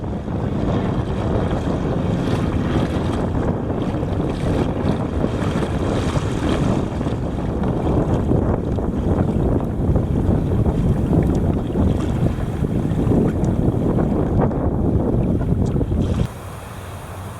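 Steady, heavy wind roars and buffets the microphone while sailing a kayak on open water, with a constant rushing wash of water beneath and no voices.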